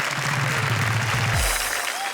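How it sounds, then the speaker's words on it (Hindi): Clapping from a live audience at a comedy poetry show fills the space evenly, while a voice speaks over it before fading out. "हम जोरदार तालियों से स्वागत करें।"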